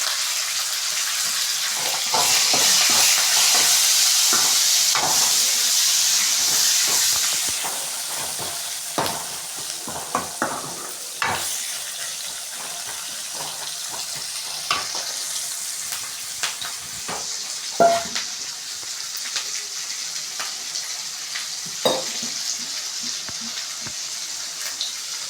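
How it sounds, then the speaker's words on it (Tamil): Tomatoes sautéing in a pan for Tamil fenugreek kuzhambu, with curry leaves and coriander added, give a steady sizzle and scattered spoon-stirring scrapes and taps throughout, louder early on and then settling into a lighter, continuous fry. "இப்போ தக்காளி போட்டு நல்லா வதக்கிக்கலாம்."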